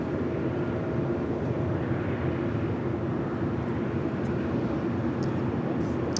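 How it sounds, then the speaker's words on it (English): An Air Tahiti Nui Boeing 787-9 Dreamliner on arrival from Papeete at Los Angeles airport gives a steady, broad engine rumble with a low hum throughout, moderately loud and fairly distant, with no voices. "Here we have Air Tahiti Nui Flight 102 coming in from Papaete on the"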